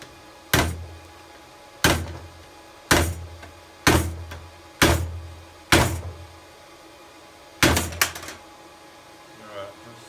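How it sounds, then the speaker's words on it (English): Hammer blows on hot steel laid over a chisel while forging a blacksmith spoon: seven sharp, ringing metallic strikes spaced roughly a second apart, loud and close, each decaying quickly, with a faint clink at the end. "I'm just going to cut this piece off here on the chisel"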